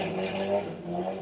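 A motorcycle engine roars past nearby outside a shopping mall, a steady droning rumble over about a second.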